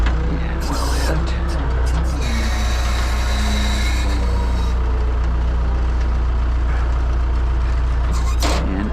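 Hydraulic wheel lift on a Hino rollback flatbed tow truck operating over a steady loud diesel idle, with a mechanical whine and clanks, near and continuous.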